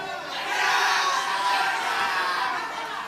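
Supporters of a candidate at a regional election debate in Indragiri Hulu, Indonesia, chant and cheer as a crowd, a dense, steady roar of many voices that swells and holds before easing off.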